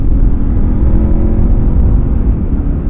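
A motorcycle in sport mode, with its more sensitive throttle, gives a loud, steady, close engine rumble that holds throughout without a distinct rev sweep.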